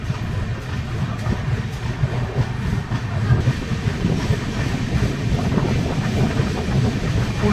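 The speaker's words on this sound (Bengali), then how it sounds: "কিছুক্ষণ দাঁড়ানোর পর মেচেদা থেকেও ট্রেন ছেড়ে দিয়েছে" A Tamralipta Express train pulls away from Mecheda station, its steady low rumble and rail clatter filling the whole stretch with loud, continuous wheel and carriage noise, plus some wind buffeting at the microphone.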